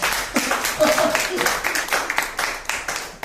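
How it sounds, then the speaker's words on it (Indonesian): An audience claps hands during a talk, with scattered, irregular claps that stay moderately loud under a continuous voice speaking over them. "Tepuk tangan dong, teman-teman."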